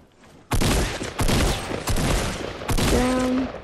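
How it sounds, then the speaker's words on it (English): Video game gunfire erupts in dense, loud bursts of rapid shots, several volleys separated by brief gaps, close and dominant with no talking over it. "Somebody shooting."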